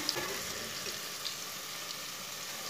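Chopped garlic and onion browning in oil over medium heat, a soft continuous sizzle and crackle that stays low and even, with no talk.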